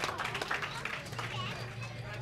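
Audience applause at a powerlifting regional championship meet, clapping for the spotters and loaders, a steady patter of claps over a low hum in a large hall, with talk mixed in.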